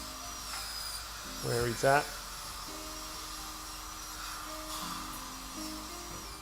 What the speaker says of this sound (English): Obviously then run the drill latch sideways out from that point.